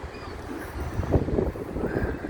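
Wind buffeting a microphone on seafront cliffs at a promenade in Blackpool, a steady low rumble with gusts swelling in the middle, no talk.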